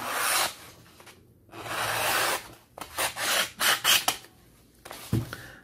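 A Victorinox New Soldier knife's plain, non-serrated blade cutting material with rasping strokes, first one long drawn scrape, then a quick run of short, close, firm strokes, with no talk.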